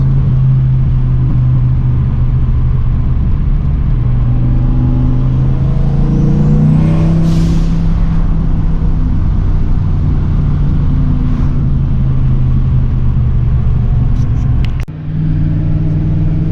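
A turbocharged Ford Foxbody rumbles loudly while driving, with a deep, steady engine drone that rises briefly in pitch mid-way before settling, and ends with a short sharp click and dip.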